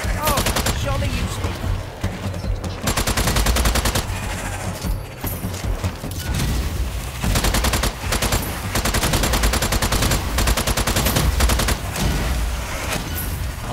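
Sustained automatic gunfire from a weapon in the Strange Brigade horde mode shooter, dense rapid bursts continuing almost throughout, loud and close, with players talking over it.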